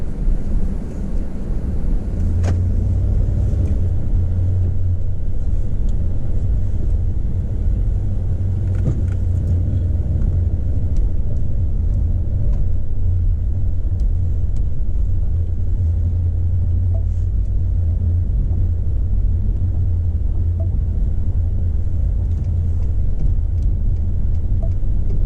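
Steady low rumble inside a car cruising along the road, engine and tire drone constant and close with faint wind noise, no talking.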